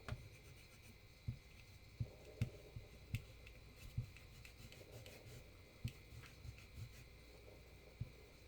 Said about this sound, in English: I'm going to erase this.